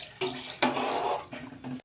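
Water splashes from a vessel into a pot of spiced chicken and masala for biryani, in a few short pours with brief pauses between.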